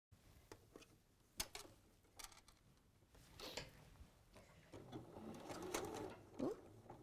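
Sewing machine stitching, a quiet close mechanical whir in short runs with ticks and clicks between, growing steadier and busier, with people talking over it.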